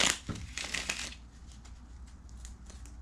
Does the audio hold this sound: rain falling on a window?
no